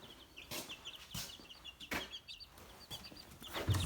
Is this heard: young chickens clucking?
yes